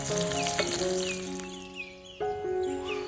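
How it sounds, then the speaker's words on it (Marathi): Sliced onion sizzles and fries steadily in a few spoonfuls of hot oil for a spicy village-style curry, with a continuous close crackle and faint stirring throughout. "दोन ते तीन चमचे तेल घेतलेलं आहे त्यानंतर यात उभा चिरून घेतलेला कांदा घालून व्यवस्थित परतून घ्यायचा आहे"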